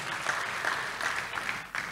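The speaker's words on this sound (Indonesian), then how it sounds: "Tepuk tangan sekali lagi buat Tuhan Yesus." Church congregation clapping in praise, a dense, steady round of applause from a crowd filling the whole short moment.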